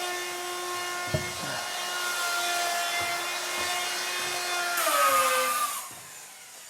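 An old power saw with noisy bearings cutting a wooden stair tread: a steady whining motor hum with a few knocks, rising to a louder, higher cut near the end before winding down.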